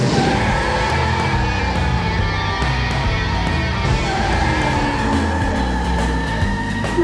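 A go-kart engine drones loudly and continuously as the kart drives, with shifting engine pitch and rumbling road noise. No voices are heard.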